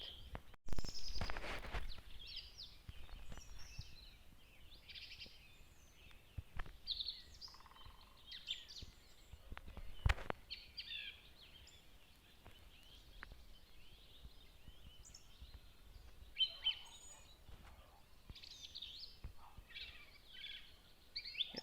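Birds chirping and calling outdoors in the morning, heard through a window, scattered high tweets throughout, with a few footsteps and soft thumps nearby.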